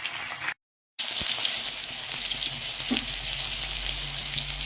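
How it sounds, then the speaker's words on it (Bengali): Bashpata fish frying in hot oil in a pan, a steady close sizzle and crackle throughout with a brief break near the start, no voices. "মাছ ভাজা হচ্ছে"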